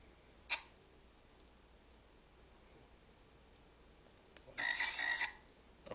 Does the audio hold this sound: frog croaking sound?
yes